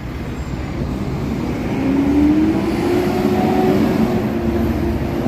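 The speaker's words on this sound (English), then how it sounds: "This is Lucid. This is electric car company." A Lucid electric car passes along a city street, a steady broadband rolling hum of tires and motion that swells slightly mid-pass amid general urban background, with no voices.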